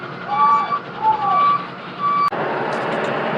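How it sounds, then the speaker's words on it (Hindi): A goods truck pulls out after unloading at a government depot, its reversing alarm beeping in repeated steady tones over a low engine rumble, then a sudden sharp clunk followed by a steady engine drone. "तो अभी हम गाड़ी लेकर के आउट कर रहे हैं यहाँ से।"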